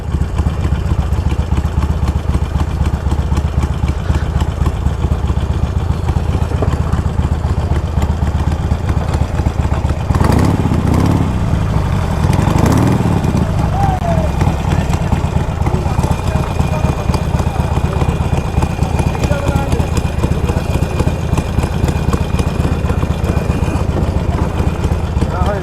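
A Harley-Davidson motorcycle engine idles steadily beside a river ferry, a continuous low throbbing rumble with clattering underneath, while people talk nearby throughout.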